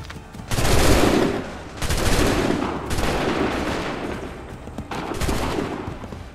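Musket volleys in Assassin's Creed III crack out as several loud, heavy bursts of massed gunfire, each booming and rolling off before the next.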